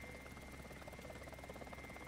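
A helicopter in the War Thunder video game drones faintly with a steady rotor chop and buzzing whine, heard alone at low level.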